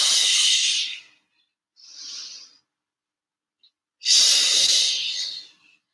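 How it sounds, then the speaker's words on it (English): Deep breathing during a home Pilates workout: two long, loud, airy exhales close to the mic, separated by a softer, shorter breath and silence. "Just fully exhaling."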